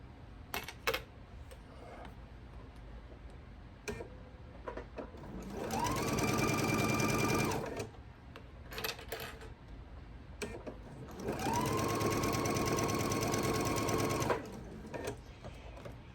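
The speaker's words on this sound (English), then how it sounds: "we're going to be sewing across right here our scant 1/4 of an inch." Sewing machine stitching a quilt block with a scant quarter-inch seam, running in two steady bursts of a few seconds each, separated by quieter handling noises and clicks, close and fairly soft.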